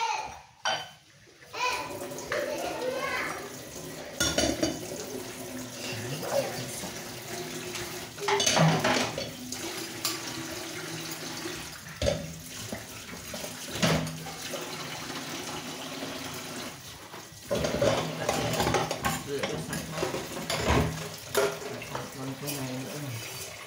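Dishes and cutlery are washed in running water, with a tap flowing and plates and utensils clinking and scraping at close range while people talk intermittently over it.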